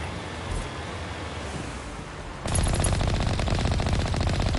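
Artillery fire in Mass Effect Legendary Edition, heard as a dense, steady rattle of rapid shots that begins abruptly partway through and continues loudly over a noisy background.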